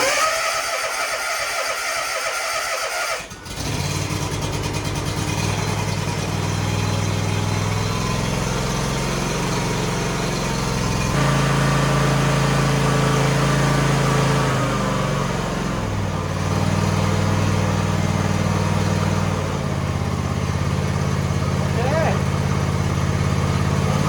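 A small engine on an old John Deere X300 lawn tractor sputters to life after a brief pause, then settles into a steady, rough idle with a low drone that shifts slightly in pitch.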